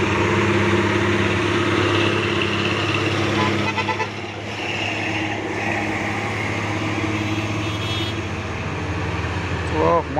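A truck idles and rumbles close by with a horn toot and engine noise in a busy roadside setting, while people talk over it.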